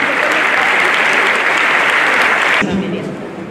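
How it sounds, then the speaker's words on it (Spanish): A crowd at a university gathering gives loud welcoming applause, a thick steady wash of clapping that continues to the end and eases slightly in the last second. "fuerte el aplauso de bienvenida."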